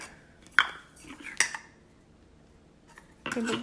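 Metal chopper balls of an electric Secura coffee and spice grinder being handled, giving a few scattered sharp metallic clinks and knocks followed by a burst of rattling, quiet overall with no talk.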